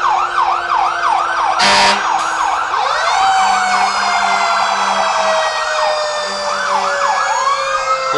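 Fire truck sirens wail loudly at close range as Volunteer Fire Department units pass through downtown Harriman in a Christmas parade, with rising and falling tones, a short horn blast, and a siren winding up partway through.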